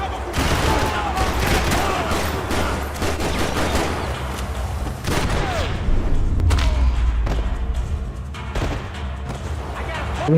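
SMG gunfire in Max Payne 3, a dense, sustained clatter of rapid shots with booming thuds, continuous and loud throughout, mixed with game effects and voices.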